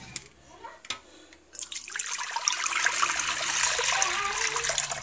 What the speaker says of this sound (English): We'll take that and pour that into the crock pot.